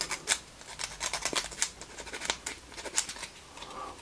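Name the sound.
sanding small fire truck model parts with sandpaper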